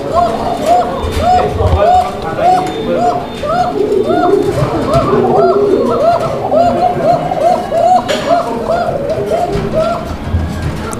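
Fancy pigeons for sale coo continuously, many birds overlapping in a steady rolling chorus of throaty, pulsing calls, close and fairly loud, with a faint murmur of people in the background.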